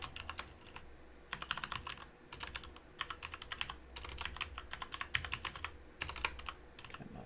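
Typing on a computer keyboard at a desk: quiet, close clusters of rapid key clicks come in bursts separated by short pauses, with no voices.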